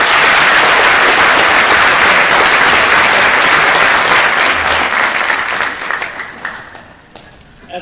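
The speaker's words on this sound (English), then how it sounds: "Please give them a round of applause." Loud, dense applause from an audience at a school ceremony with cadets, chorus, band and color guard, sustained for several seconds before tapering off toward the end.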